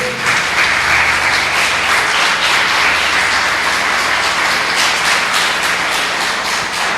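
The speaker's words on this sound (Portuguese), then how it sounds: "Vamos aplaudir ao Senhor." A church congregation at an evening service applauds loudly and continuously for about seven seconds, a dense, even wash of many hands clapping together.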